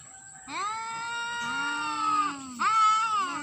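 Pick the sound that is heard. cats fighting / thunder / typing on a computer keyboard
cats fighting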